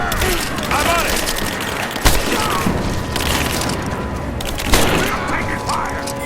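Gunfire in the Rise of the Tomb Raider video game crackles in rapid bursts, with two sharp, loud booms standing out amid the shooting while voices shout over the fight.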